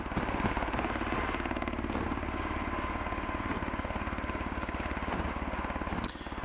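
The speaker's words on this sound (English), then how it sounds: "So the chopper can actually see you, spot you, attack you, and everything else" Attack helicopter in the survival shooter Road to Vostok in winter mode, a steady loud rotor thrum and engine drone that holds throughout with a faint chop, close and continuous with no talk.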